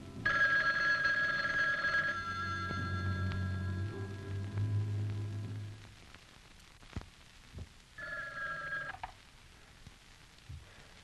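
An old telephone in a 1966 science-fiction film rings with a bright trilling bell, one long ring of about two seconds and a shorter one later, over a low hum and muffled background sounds.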